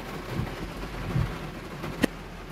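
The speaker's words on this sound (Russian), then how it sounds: "а это я вам из машины просто дождик показала" Rain heard from inside a parked car makes a steady soft patter on the body and glass, with a low rumble and one sharp knock near the end.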